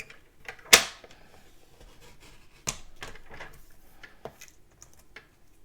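Paper trimmer slicing cardstock for a Stampin' Up! card: one sharp, close blade snap followed by a couple of lighter scraping strokes and small handling taps on a quiet desk.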